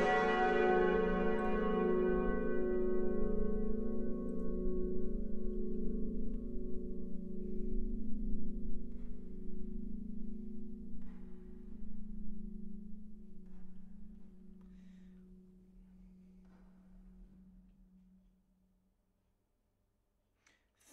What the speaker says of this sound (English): wait for the bells to fade out.